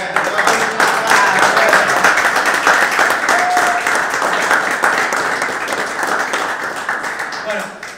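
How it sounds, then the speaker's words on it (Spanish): Applause from a small audience closing a talk at a clinic session in Esperanza, Santa Fe, a steady patter of clapping that holds for about eight seconds and tapers at the end, with voices mixed underneath. "Un aplauso."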